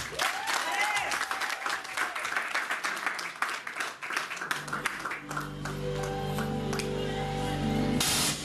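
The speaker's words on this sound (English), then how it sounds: "So let's clap our hands together." Applause from a live audience at a poetry event in a Birmingham hotel, dense clapping for several seconds under a voice speaking, then fading as a sustained guitar chord rings out.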